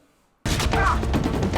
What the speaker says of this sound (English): Did my boy just take a gunshot